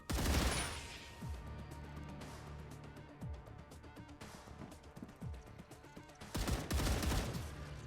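Rapid gunfire bursts in the sci-fi survival game StarRupture, dense repeated shots with heavy impacts, loudest at the start and again near the end, a continuous barrage throughout.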